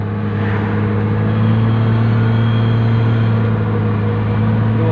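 A Toyota Crown with a 2JZ engine accelerates along a rural road, a loud, steady engine drone with strong low harmonics climbing slightly in pitch under cabin noise, with no talking.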